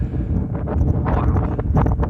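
Wind gusts through woodland on a hillside walk, buffeting the microphone with a steady low roar and rustle that swells in bursts, close and fairly loud, with no talking.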